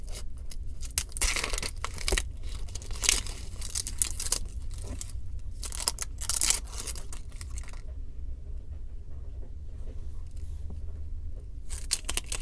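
Dry outer skin being peeled off an onion for campfire chicken, a run of crackly, papery tearing and crinkling bursts, close and fairly loud, with quieter pauses in between and no talking.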